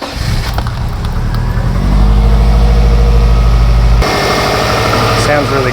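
A Subaru MY99 WRX fitted with a rebuilt Hitachi alternator cranks and fires up, settling into a loud, steady close-up idle, with someone speaking near the start.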